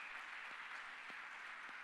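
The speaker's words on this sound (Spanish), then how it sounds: "dale un aplauso fuerte a Dios" Audience applause at a religious talk or sermon, a steady wash of clapping that stays fairly faint and distant throughout, with a few slightly stronger claps standing out.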